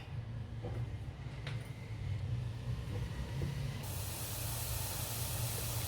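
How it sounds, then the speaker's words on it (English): A steady sizzling hiss of garlic frying in a hot pan, continuous and fairly close, with no talking. "while the garlic is frying, let me tell you"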